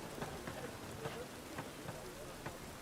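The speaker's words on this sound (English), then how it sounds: "Looks like rain." Rain falling in The Witcher 3 video game, a steady hiss of rainfall with faint scattered drop taps, continuous and fairly quiet with no voices.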